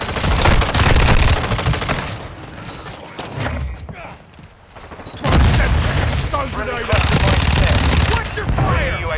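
Loud, dense automatic fire and heavy booms from a Call of Duty: Modern Warfare II multiplayer match, continuous volleys that briefly dip midway before surging again, with in-game voices calling out over the shooting.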